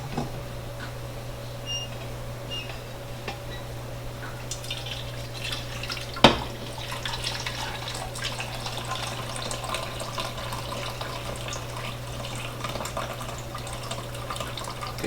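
Turkey pan juices pour steadily from a cooked Instant Pot turkey breast, a continuous trickling splash close by. A brief sharp clink sounds midway, and there are no voices.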